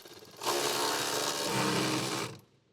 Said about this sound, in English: Using the 7mm socket with the electric ratchet, tighten the clamp on the fuel feed hose.